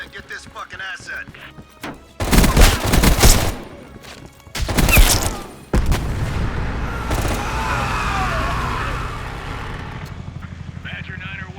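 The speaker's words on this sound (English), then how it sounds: "We are still under heavy fire." Heavy gunfire and explosions from the video game Call of Duty: Black Ops Cold War come in loud bursts and booms under a steady helicopter drone, with voices talking.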